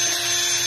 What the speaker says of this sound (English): make sure that the drill goes through the paper